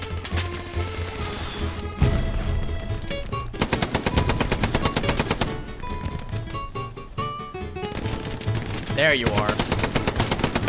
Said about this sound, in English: MG in the building.